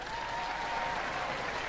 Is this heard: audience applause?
yes